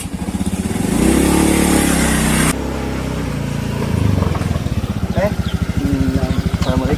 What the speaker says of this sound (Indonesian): Kebeneran nih motor aing Scoopy.